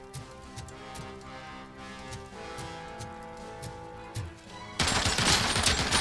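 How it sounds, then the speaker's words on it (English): Gunfire in the video game RoboCop Rogue City, rapid rattling bursts of shots over a game soundscape, ending in a louder, denser burst of noisy blasts. "que nos está acribillando alguien por aquí"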